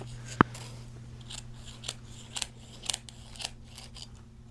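Scissors snip through a crochet blanket being cut into pant pieces. After one sharp click near the start come a series of soft, evenly spaced cuts over a steady low hum, with no talking.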